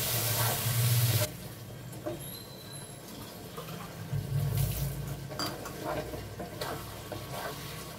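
Spiced eggplant frying in a pan hisses and sizzles as a little water is added, with a short loud burst at the start that settles into a steady softer sizzle with small crackles.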